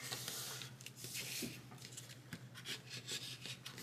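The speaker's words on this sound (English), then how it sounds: "I'm going to fold up each of these" Paper pieces for a traveler's notebook are folded and rubbed down by hand, making soft continuous scraping and rustling with occasional crisp creases, close and quiet.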